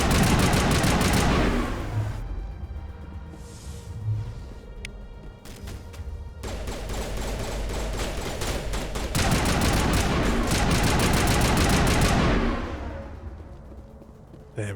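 Bursts of automatic and repeated gunfire from Mass Effect Legendary Edition combat fill the scene, loud and dense, with rapid volleys broken by short lulls and a brief quieter stretch before heavy firing resumes.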